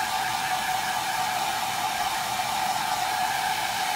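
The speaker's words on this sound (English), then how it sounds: "next I'm going to use a hair dryer to cool it down just a little bit" A hair dryer blows steadily throughout, used to cool a chalk craft project, a constant broadband whoosh with no talking.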